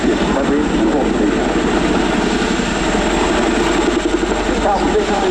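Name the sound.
Boeing Chinook HC.6 helicopter flying at air display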